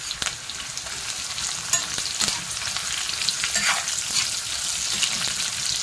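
Curry leaves and red chillies frying in hot oil: a dense, hissing sizzle that holds steady throughout, with a few sharp crackles and light stirring scrapes, no voices.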